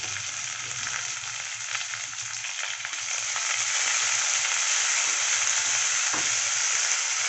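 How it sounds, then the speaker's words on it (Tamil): Chopped tomatoes, onion and rock salt sautéing in a pan, a loud, steady close sizzle and hiss that grows fuller partway through, with faint stirring and no talk. "நல்லா வதக்கி விட்டுருங்க."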